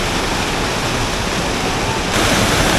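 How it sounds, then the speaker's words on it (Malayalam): Rushing water on a misty hill road, a loud, dense, continuous roar close by with no break, rising slightly near the end. "ആ വെള്ളത്തിൻ്റെ ഒരു ആംബിയൻസ്"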